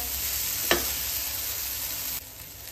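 Okra (bhindi) sizzling steadily as it cooks in a pan, with one sharp clink near the start and the hiss dropping a little toward the end, no voices.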